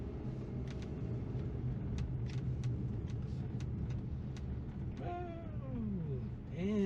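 A Mitsubishi Eclipse Cross compact SUV swings through a full tight turn on a road, the engine a steady low rumble with clicks, and a rising whine or squeal near the end as it completes the circle.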